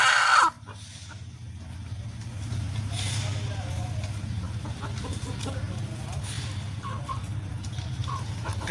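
Flock of four-to-five-month-old chickens clucks nearby over a steady low rumble, scattered short calls popping up throughout, while a person talks in the background.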